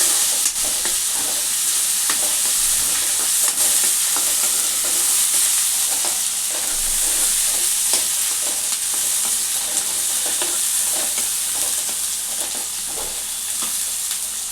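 Ginger sizzles and fries in a pan while being stirred, for a ridge gourd and egg curry; a close, steady hiss with faint scraping stir strokes throughout, no voices.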